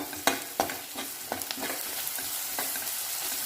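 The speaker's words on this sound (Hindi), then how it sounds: "अब जो हमने लहसुन अदरक और हरी मिर्च का पेस्ट बनाया था इसको हम इसमें डाल देंगे" Garlic, ginger and green chili paste sizzling with lightly browned onions in a pan for an potato-eggplant dry curry, steady frying hiss with scraping stirs of a spoon at irregular intervals, close and alone.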